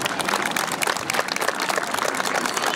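Loud, steady applause from an audience at a Mother's Day school celebration in Arequipa, Peru, sending off the parents' representative: dense clapping that carries evenly through the whole stretch with no pauses.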